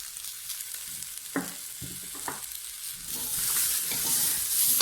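Ginger and potato dal being stirred in a pan, a soft sizzle with a few spoon scrapes and clatters, the frying hiss swelling louder toward the end, close by with no talking.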